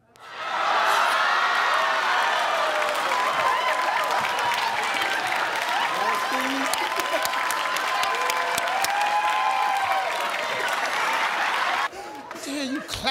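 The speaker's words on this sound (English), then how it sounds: "Clapping for now" A Family Feud studio audience breaks into loud, sustained applause and cheering with whoops, filling nearly the whole stretch before cutting off abruptly near the end, with a brief voice afterward.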